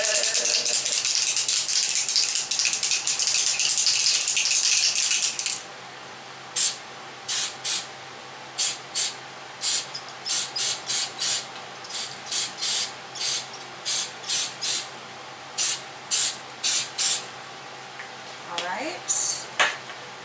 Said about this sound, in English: let's do the spray gold. Okay, shake it up a bit.